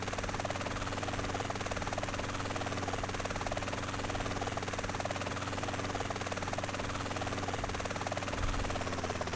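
A helicopter flying in the video game GTA San Andreas, with a steady, loud rotor drone and whine throughout, uninterrupted and without speech.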